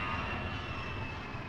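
Airplane crashing in the Resident Evil video game, a steady low engine roar with a faint high whine, held evenly and fairly quiet throughout with no voices.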